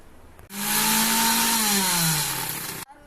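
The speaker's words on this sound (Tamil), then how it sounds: "ஏலக்காய் போட்டு நல்லா அரைச்சிக்கலாம்." A kitchen mixer grinder whirs loudly as it grinds coconut with cardamom, switching on abruptly, running with a high motor whine for over two seconds, then cutting off sharply.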